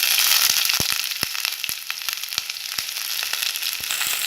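Chopped big onion frying in a pan, a steady close hiss of sizzling oil broken by sharp crackles and pops scattered throughout.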